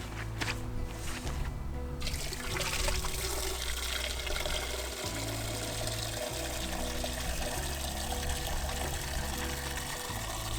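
Steady gushing water pouring continuously from a pump, with the pump's low mechanical hum underneath; no talking.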